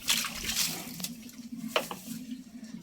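Water runs into a container outdoors for a farm animal to drink, a short splashing stream under a steady low hum with faint background sounds.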